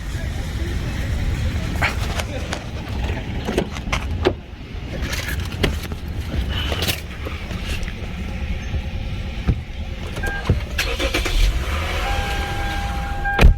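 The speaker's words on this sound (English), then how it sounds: "So I will need to roll this up and down for a couple times" A Lexus power window motor whirs as the glass is run up and down several times inside the parked car, with mechanical clicks and thumps at the stops and some voice in the background.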